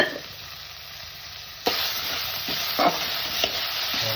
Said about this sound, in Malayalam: അതിനത് ഇളക്കി കൊടുക്കുകയാണ്.